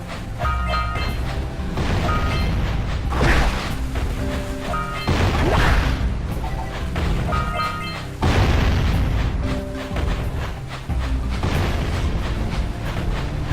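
A bomb explodes in the Jak and Daxter video game, several deep booming bursts breaking through dense, loud game music and effects.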